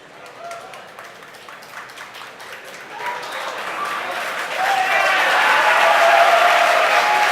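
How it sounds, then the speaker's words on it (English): Crowd cheering and applauding at a SpaceX Falcon Heavy launch, starting as scattered clapping and swelling into loud, sustained cheers with whoops and shouts in the second half. "Hear the crowd cheer behind me."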